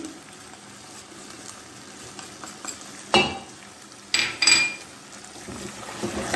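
Potatoes with spices being stirred in a pan, a soft steady sizzle broken by a few sharp scraping clanks of a spoon against the metal, with no talking.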